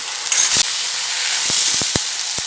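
Chopped onions sauté in a hot pan, a loud continuous close-up sizzle and hiss broken by a handful of sharp taps from stirring, with no voices.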